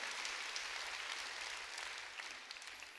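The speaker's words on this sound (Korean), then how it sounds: "박수로 하나님께 영광을 돌리라는 겁니다" Church congregation claps to give glory to God during a sermon on prayer, a soft, distant wash of applause with a low hum underneath, fading slightly toward the end.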